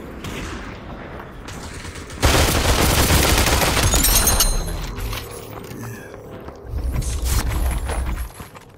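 Gunfire in the video game Metro bursts loudly for a couple of seconds of rapid shots, then fades to quieter mechanical clatter before another heavy rumble near the end.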